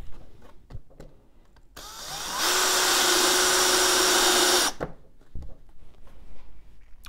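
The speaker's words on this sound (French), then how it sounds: "je vais essayer de visser cette vis dans un bout de bois" A power screwdriver drives a screw into a piece of wood, whirring loudly and steadily for a few seconds close by, with quiet handling noises and bumps before and after.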